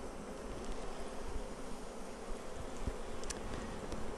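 Honey bees at a Flow Hive being split hum in a dense, continuous buzz, many insects close by with no pauses.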